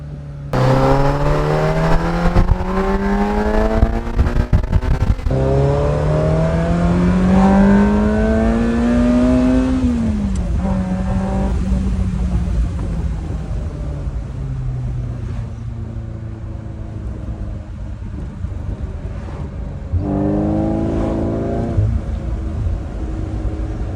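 A 40-year-old Ferrari's engine revs hard through acceleration pulls, its pitch climbing, dropping at each shift and climbing again, loud and close throughout with no speech.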